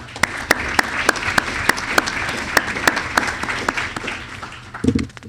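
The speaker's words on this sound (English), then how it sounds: "let's give Matt a round of applause for being here today" Audience applause for a guest at an economics debate on the Federal Reserve, a steady patter of many hands with sharp individual claps standing out, fairly close and continuous, ending in a brief louder burst.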